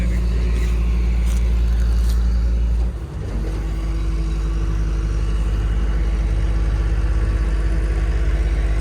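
A 1968 Ford truck with a possible 302 V8 idling nearby, a steady low rumble that briefly dips and then settles back into a continuous even idle.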